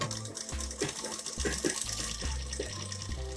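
A sewing machine stitching around the neckline of a fabric crop top, its needle running in short motor-driven bursts with pauses between, close and moderately quiet, with no talking.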